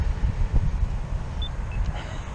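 Road traffic passing beside a group of cyclists waiting at the roadside on a bikepacking trip, a steady low rumble of cars with no talking.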